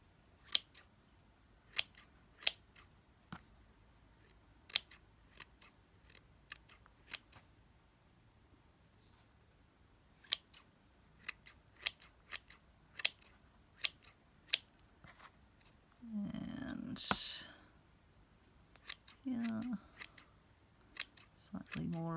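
Scissors snip scrap fabric for a textile micro collage, giving sharp, isolated cuts at an irregular pace, close and fairly quiet, with brief bursts of rustling between them.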